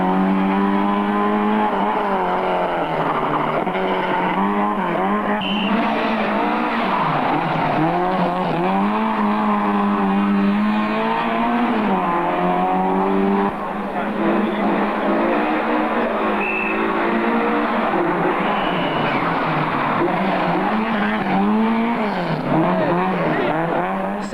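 A Ford Escort rally car races up a hill climb, its engine howling loudly as it revs and shifts, rising and falling through the gears with occasional tyre squeal, continuous and close for the whole stretch.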